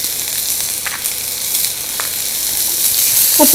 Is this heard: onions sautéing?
yes